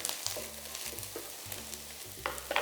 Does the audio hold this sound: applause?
no